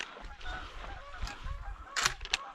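A wounded goose honks on the water during an opening-day duck hunt, two sharp, fairly close honks near the end over a low rumble of wind and movement.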